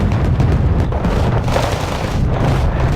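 Repeated cannon fire booms in a video game battle, a dense continuous barrage of heavy low explosions and rumble with no pauses, loud and close.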